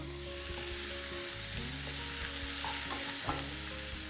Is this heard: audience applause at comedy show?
no